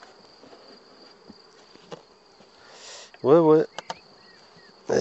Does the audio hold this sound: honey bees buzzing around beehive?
yes